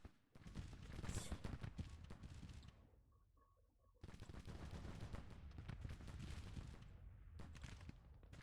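Artillery fires canister shot in Grand Tactician: The Civil War, a dense, crackling roll of cannon and musket fire that runs on for several seconds, drops off briefly, then surges back just as heavy.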